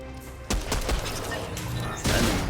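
Pistol shots in the Fortnite video game, a couple of sharp, punchy bangs about a second and a half apart, with a softer crackle of game noise between them.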